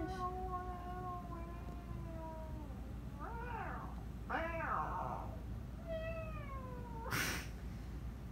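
An indoor cat gives a series of drawn-out, wavering meows, several separate calls over a few seconds against a low background hum, fairly faint and heard alone.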